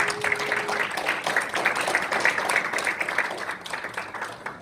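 A crowd at a political party event welcoming new recruits claps steadily, a dense patter of applause that stays even throughout.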